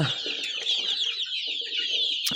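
A flock of 1.5-month-old Australorp Rumynski chicks peeps steadily and shrilly at close range, a dense, continuous chorus with no pauses.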